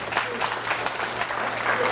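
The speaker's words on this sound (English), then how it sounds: "give yourself a round of applause" A crowd applauds at a talk in Sedona, making a dense, steady patter of clapping at moderate volume for a short stretch.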